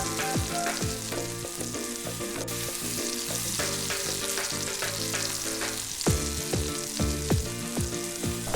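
Pork pieces browning in a pan for sweet and sour pork give a loud, close crackle and sizzle that runs throughout, with a few sharper pops and utensil knocks near the end.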